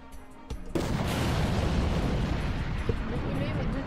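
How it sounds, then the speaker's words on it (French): Big yellow bomb explosion in a Roblox RPG video game: a sudden loud blast followed by a sustained roaring, crackling rumble that fills the rest of the moment, with no talking over it. "Donc là, ça va faire une explosion jaune."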